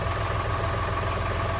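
A boat engine idles steadily while warming up, a constant low, even drone with a faint vibration and no revving, close and fairly loud throughout.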